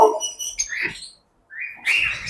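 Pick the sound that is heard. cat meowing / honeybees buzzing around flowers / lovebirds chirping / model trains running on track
lovebirds chirping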